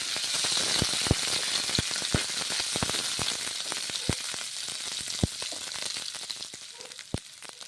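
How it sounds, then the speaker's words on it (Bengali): Paneer frying in a pan gives a loud, continuous close-up sizzle, with frequent sharp crackles and pops spread through it. "পনিরগুলো ভেজে নিচ্ছি"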